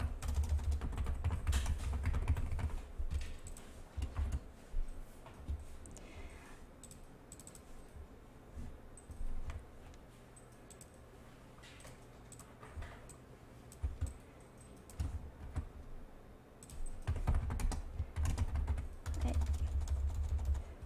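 Computer keyboard typing clatters in bursts of rapid key presses and clicks, near and fairly clear, with quieter stretches between flurries during work in illustration software.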